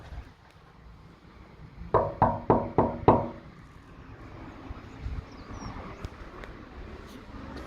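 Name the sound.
knocking on a door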